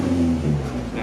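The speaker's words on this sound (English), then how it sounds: "as you can see, it's now idling better" A Honda CRX with a B16 engine idles after its idle air control valve was repaired, a steady low droning hum with a faint tonal whine, loud and close, with no voices.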